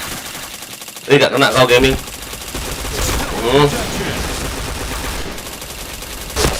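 Rapid gunfire bursts in the shooter game PointBlank, crackling in a dense cluster and then a shorter burst, with someone speaking casually over and between the shots during live gameplay.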